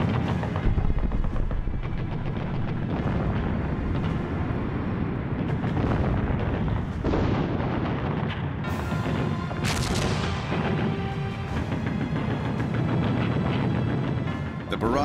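Massive German artillery bombardment at Verdun in 1916, from over a thousand guns along an eight-mile line: continuous dense booming and rumbling gunfire with overlapping blasts, loud and sustained, with narration spoken over it.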